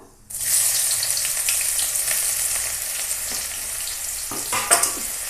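Chopped onions fry in a pan, starting with a sudden loud sizzle as they hit the oil and then settling into a steady, close crackle, with a few stirring scrapes near the end.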